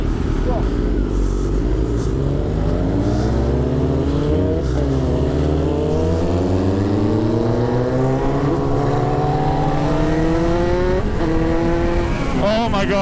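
Kawasaki Z900 motorcycle under way, its smooth, torquey engine drone rising and falling steadily through the gears for the whole stretch, with a rider talking over it and wind noise.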